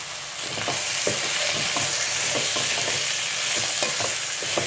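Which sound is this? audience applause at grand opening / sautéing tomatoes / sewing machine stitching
sautéing tomatoes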